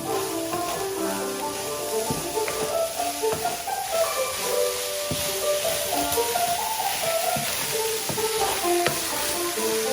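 Shredded cabbage sizzles steadily as it warms in a hot pan, with a constant frying hiss and scattered crackles and pops from close by.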